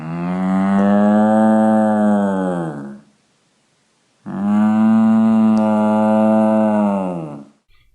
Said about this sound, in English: the sound effect we're going to look at today is Cow Noise by Tats14 on Freesound.org